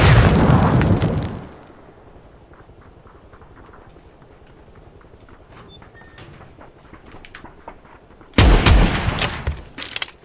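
PUBG gunfire and grenade explosions: a loud burst of booming blasts opens, sparse distant pops follow through a quieter stretch, then heavy explosive bursts return at the end.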